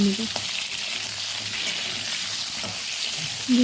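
Potatoes fry in a pan with a steady, close hiss of hot oil throughout, broken by a few light clinks as they settle.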